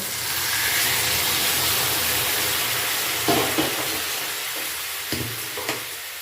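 Warm water poured into spice masala frying in a pan for a soya chunk and potato curry, giving a steady close sizzle and hiss with a few brief stirring knocks, no talk.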